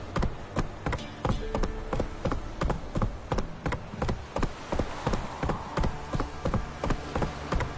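Horse hooves clip-clopping in The Witcher 3: Wild Hunt, a steady rhythmic series of hoof strikes at a walking pace over faint ambient buzz, fairly quiet with no talk.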